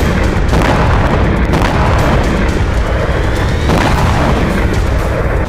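A huge blast as a drone strikes an oil depot, a sustained loud roaring rumble with repeated deep booms, heavy and close, with no speech.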